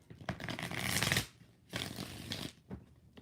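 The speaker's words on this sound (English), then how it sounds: "We're going to do 3 shuffles." Tarot cards riffle-shuffled by hand, close and crisp, in two long bursts and then a brief third flutter, with no talking.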